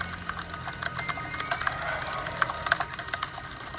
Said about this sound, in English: the way that a keyboard feels and sounds when I type is actually something that's very important to me